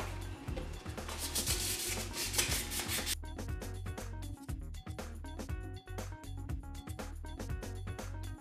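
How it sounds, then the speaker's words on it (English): Hand sanding of a wooden Nightwing prop fighting stick, working from 220 up to 400 grit sandpaper and then a sanding sponge: steady close-up rubbing strokes, a dense hiss for the first few seconds, then quicker, choppier scrubbing passes, with no talking. "Now I'm going to go from 220 to 400 grit sandpaper, and I'm also probably going to hit it with this sanding sponge right here."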